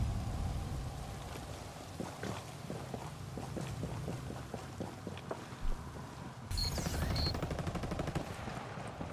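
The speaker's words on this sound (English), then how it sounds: "I hear gunfire." Gunfire in a Ghost Recon Breakpoint PvP match crackles faintly in the distance as a string of rapid automatic bursts, followed by a louder rustle of movement near the end.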